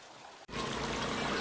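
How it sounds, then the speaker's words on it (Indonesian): River water flows past green rice fields near Garut with a dense, continuous rushing wash that cuts in abruptly after a brief quieter moment. "suara air sungai yang mengalir"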